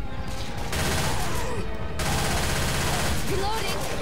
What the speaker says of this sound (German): Es schießen alle auf ihn, der muss doch irgendwie weggehen.